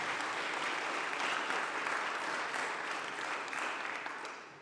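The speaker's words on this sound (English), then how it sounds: "Round of applause for Ahmed" Graduation audience at MIB Trieste School of Management giving a dense, loud round of applause that holds steady, then begins to fade near the end.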